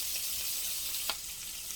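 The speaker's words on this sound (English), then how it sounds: "Okay, so my sausage is browning." Andouille sausage browns in a pot for gumbo, giving off a steady, quiet, hissing sizzle with a single small pop partway through and no talk.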